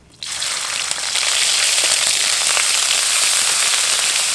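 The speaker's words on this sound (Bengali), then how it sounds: "আদা রসুনটা ভাজা ভাজা হয়ে গেছে," Ginger garlic paste hits hot oil in a Bengali soya chunk dish, bursting into a sudden loud sizzle that swells and then stays as a dense, crackling roar, close by with no speech.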